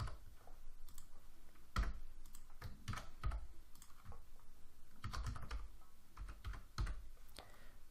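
Typing on a computer keyboard, quick irregular bursts of light key clicks at close range, fairly quiet, with short pauses between runs of keystrokes and no talking.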